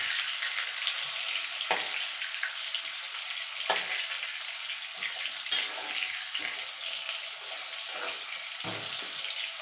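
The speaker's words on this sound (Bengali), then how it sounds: "এবার আলুটাকে আমি লাল লাল করে ভেজে তুলে নেবো।" Potato pieces seasoned with salt and turmeric fry in hot oil, a loud, steady sizzle with occasional stirring scrapes and clinks punctuating the crackle.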